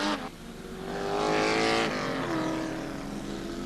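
A 1986 Volvo touring race car driven by a Venezuelan driver roars past at close range, its engine note rising to a loud peak and then falling away as it pulls off, with no talk.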